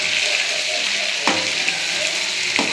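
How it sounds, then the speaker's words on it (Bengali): Large fish pieces fry in a pan with a continuous loud sizzle and crackle, punctuated by two brief sharp spatters. "আমি ভাজছি তো সামনে থেকে, বিশাল বড়।"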